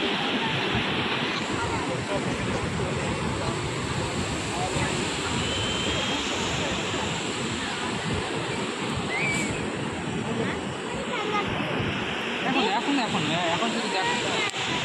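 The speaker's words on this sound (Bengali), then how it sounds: "আমরা এখন আছি সমুদ্র সৈকতে রাত্রিবেলা" Steady, broad surf roar from sea waves rolling onto Puri beach at night, continuous and fairly close, with faint voices in the background.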